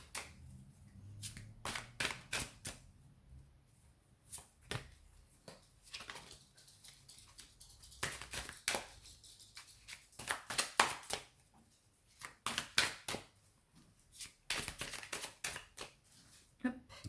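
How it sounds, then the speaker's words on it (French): A deck of cards being shuffled by hand in repeated crisp riffling bursts with pauses between them, close and fairly quiet, with a voice talking at times in between. "je vais tout de suite mélanger les cartes"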